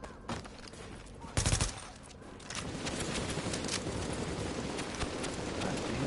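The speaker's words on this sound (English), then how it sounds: "that was a warning shot" A brief loud gunshot from The Division on PlayStation 4 cracks out amid steady background game noise, with scattered fainter reports around it and no clear talking.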